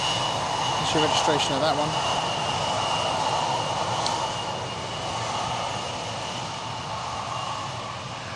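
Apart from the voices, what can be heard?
Embraer KLM Cityhopper aircraft engine at airport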